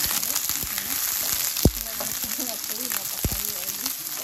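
Yellow onions sizzle steadily in a pan for chicken curry while being stirred, a moderate frying hiss broken by a couple of sharp utensil knocks against the pan.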